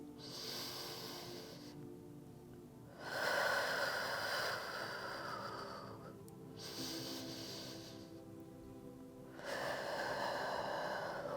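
Slow, audible breaths from someone holding a yoga pose during a slow-flow session, with long drawn inhales and exhales alternating with quieter pauses, fairly close and soft.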